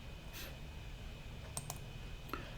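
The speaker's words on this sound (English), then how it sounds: "I right click on this source folder" A computer mouse gives a few faint, sharp clicks close by in a quiet room, spaced irregularly with a quick double click near the middle.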